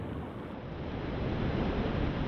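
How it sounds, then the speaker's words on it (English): Ocean waves roll onto a shore in a steady, broad wash of surf, continuous and fairly close, with some wind buffeting and no voices. "the waves it created roll until they hit the shores."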